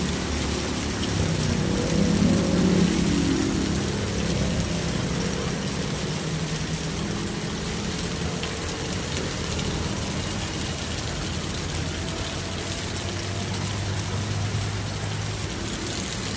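Heavy rain pours down in Taguig City, Philippines, a dense, steady wash of noise with a low engine-like rumble underneath, continuous and fairly loud, no voices.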